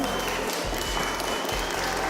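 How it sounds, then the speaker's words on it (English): Audience applause following a magic trick at a family show, a brief burst of continuous clapping from a crowd, loud and close, with a low rumble and some voices underneath. "Give her a big clap"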